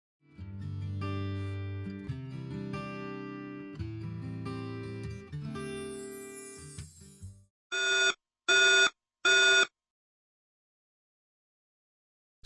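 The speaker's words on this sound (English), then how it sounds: "the battery has generated a 3006 alarm" A battery 3006 alarm sounds as a run of synthesized tones, then three loud, evenly spaced electronic beeps before it goes silent.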